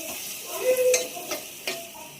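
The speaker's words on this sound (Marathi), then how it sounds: "आणि आता हे सर्व जिन्नस छान असे परतून घ्यायचे" Ingredients are sautéed in a pan with a light sizzle and a few sharp scrapes and clinks of a spoon stirring, close and brief.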